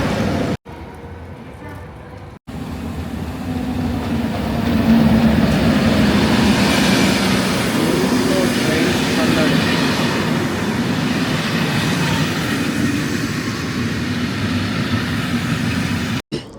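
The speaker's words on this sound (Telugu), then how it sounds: "ఈ ట్రైన్లోనే మనం కొత్త దేశానికి వెళ్తూ ఉన్నాం." A double-decker passenger train travelling in Europe rumbles and clatters steadily from inside the carriage, its low drone swelling after a brief quieter gap near the start.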